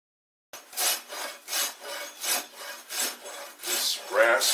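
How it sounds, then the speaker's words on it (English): Steel farrier's rasp for trimming horse hooves, filing wood off the wings and body of a carved osprey: seven steady, rhythmic rasping strokes, close and clear with no talk. "This rasp is a tool that I got from the seed and feed store, made to trim horses' hooves by furriers."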